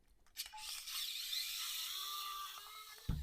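A metal clamp's screws being undone by hand: quiet close scraping and ratcheting metallic turns, with a sharp clunk at the end.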